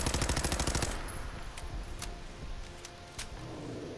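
Rapid automatic gunfire from Fallout 4 rattles in a dense burst for about a second, then trails into scattered single shots and crackling combat noise.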